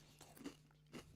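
Two crisp crunching bites into a McDonald's hash brown, close to the mic, each a short crackly burst about half a second apart.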